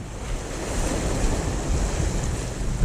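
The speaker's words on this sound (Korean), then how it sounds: "여기까지 물이 튀기네" Sea waves surge and splash against a breakwater during shore fishing, a continuous loud wash of surf with gusting wind buffeting the microphone, swelling slightly toward the end.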